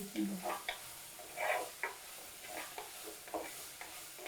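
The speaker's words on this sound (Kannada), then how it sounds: "ಈಗ ಚೆನ್ನಾಗಿ ಅದು ಇದಾಗ್ತಾ ಇದೆ ಅಲ್ಲ ಫ್ರೈ ಆಗ್ತಾ ಇದೆ" Soft sizzling from a pan of peas frying for rice bath is broken by repeated scraping stirs, a series of short bursts at an uneven rhythm, fairly quiet and close.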